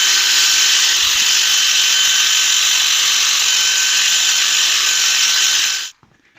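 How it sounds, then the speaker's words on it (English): Power drill fitted with a small polishing head buffing the paintwork of a Vauxhall Nova SR, a steady loud high-pitched whirr running continuously at close range before cutting off abruptly near the end. "So I'm just doing the awkward bits with a small head on a drill."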